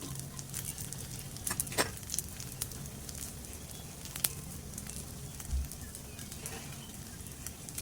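Sabudana appe frying in a little oil in an appe pan, a steady soft sizzle with faint crackles and occasional pops running throughout, close and alone with no talk.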